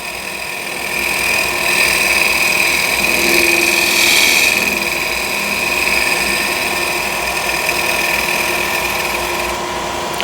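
Woodturning scraper smoothing a wood workpiece on a lathe, throwing fine dust and shavings; a loud, close, steady whine with a sustained tonal hum, swelling in the middle and settling back, alone without talk.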